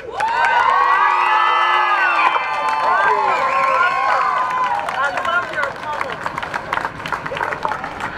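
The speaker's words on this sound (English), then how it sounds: "Let's give another round of applause. One more round of applause." Loud crowd cheering and whoops with scattered clapping at an outdoor police accountability rally, building into sustained applause from a large audience, with voices shouting over it.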